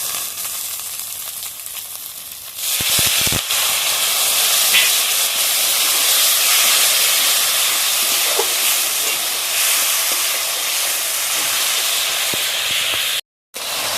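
A little water poured into a pan of hot frying spice paste for chicken malai curry sets off a sudden loud steam hiss and sizzle that stays strong and continuous, with a few clinks and no voices.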